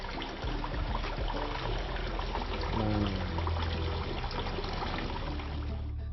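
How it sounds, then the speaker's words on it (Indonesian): Hot water poured steadily over duck meat being washed for opor, a continuous loud splashing pour with trickling, filling the whole stretch; one brief spoken word. "Siram air panas lagi."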